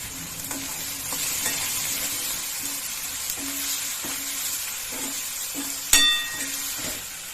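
Tomatoes and salt sizzling in a pan for Maggi noodles, a steady fry broken by repeated stirring scrapes and one sharp clink of a utensil against the pan near the end, no voices.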